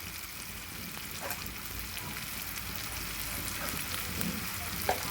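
Chicken with ginger garlic paste and turmeric frying in a pan while it is mixed, a quiet, steady sizzle with soft intermittent stirring scrapes and a small clink near the end.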